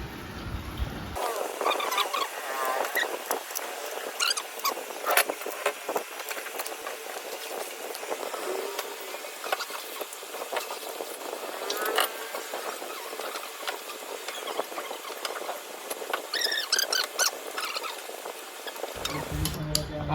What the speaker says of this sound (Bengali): এবার আমি যত 8 নম্বর নাট আছে সব নাটগুলো টাইট করে নেব।